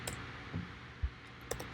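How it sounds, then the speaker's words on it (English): Sparse keystrokes on a computer keyboard as a password is entered, a handful of soft, widely spaced clicks with no talking. "And even though I'm typing my password, it doesn't show any update on the screen."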